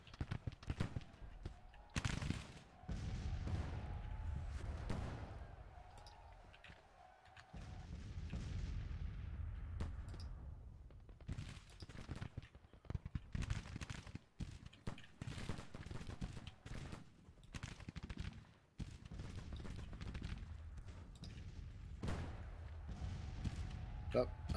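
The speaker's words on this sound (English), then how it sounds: "I see some of their guns firing now." Artillery guns fire in the Grand Tactician strategy game as scattered booms and cannon reports with distant rumbling, repeated throughout under steady talk from a voice.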